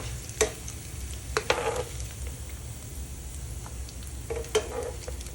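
Dried anchovies (dilis) fry in a pan for a Filipino breakfast, giving a low steady sizzle with a few sharp clicks and stirring scrapes scattered through, no voices.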